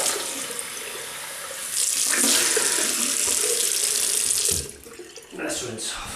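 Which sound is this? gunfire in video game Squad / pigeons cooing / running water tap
running water tap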